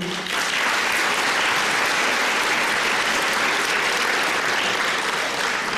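Sustained audience applause at a Slovenian ceremony or gathering, dense and steady clapping from a large crowd lasting throughout, loud and close.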